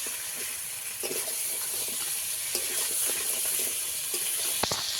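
Water poured into a pan of crab curry (kankra kosha) during cooking, a steady hissing, running pour with light sizzling, close and continuous, no talk.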